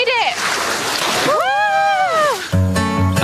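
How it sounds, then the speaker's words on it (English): Women wading through the incoming morning tide on an island shore, splashing and sloshing water in quick bursts, with excited shouts and voices over the splashes and a sharp, tonal cry near the end. "Becky, Lauren and Beth brave the morning tide to fetch water for the camp"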